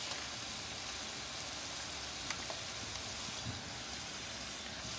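Steak fries in a pan with green peppers and onions, making a faint, steady sizzle and hiss with a few soft clicks. No one speaks.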